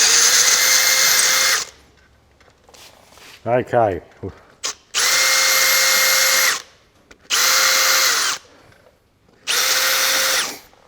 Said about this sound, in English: we've just drilled the holes out here